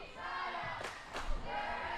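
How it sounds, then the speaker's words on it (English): Spectators in a gym cheer loudly during a varsity boys volleyball match against Eastlake. The noise forms a dense, sustained roar, with two sharper swells of shouting near the middle. "Crowd is loud."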